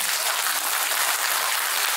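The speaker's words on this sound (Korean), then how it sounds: "수고해 주신 우리 조합장님께 다시 한번 큰 박수 부탁드립니다." Steady, dense clapping from a seated crowd at a redevelopment association's annual general meeting in Munhyeon 1 district, filling the full two seconds at an even level with no voices over it.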